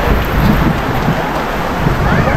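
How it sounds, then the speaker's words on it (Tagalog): Heavy rain pours down steadily with a dense, even hiss, wind mixed in at times, loud and close throughout. "Palakas ang ulan."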